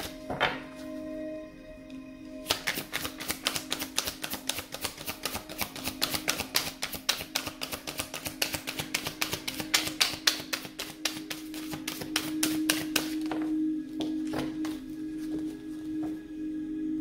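Rapid, rhythmic flutter of tarot cards being riffled and shuffled, close up, continuing for over ten seconds over a steady low hum.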